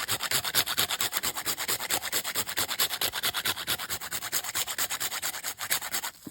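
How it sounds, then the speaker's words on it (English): Nutmeg grated into herb butter for Caribbean-style breadfruit balls, a steady run of quick rasping scrapes, close and fairly loud, with no talking. "Now I'm going to grate some nutmeg in there"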